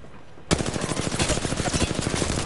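Automatic weapon fire in the video game Apex Legends breaks out suddenly and continues as a loud, rapid stream of close shots, with no talking over it.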